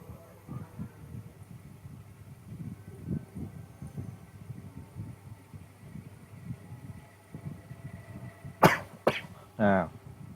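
Quiet breathing gives way to two or three sharp coughs in quick succession near the end, close and fairly loud.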